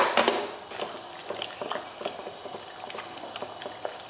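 Cooked tomato kuzhambu being churned with a wooden masher, giving soft repeated wet squelches and light knocks against the pot in a steady irregular rhythm, close by with no talk.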